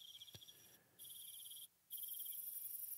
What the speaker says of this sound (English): So we'll get some jungle noise going.